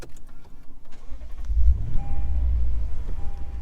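A Lexus IS 500 car engine cranks and catches, settling into a low steady idle after a second or two of quiet cabin noise.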